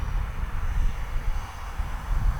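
An Arrows Marlin 64mm RC jet with landing flaps out flies on a windy day, its ducted fan a steady whooshing drone with low rumble, fairly distant and without voices.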